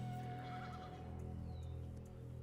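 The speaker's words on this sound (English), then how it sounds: "Hey, nice horse." A horse neighs in the video game Pantheon, a single whinny riding over a steady low in-game ambient hum, fairly faint and set back in the mix.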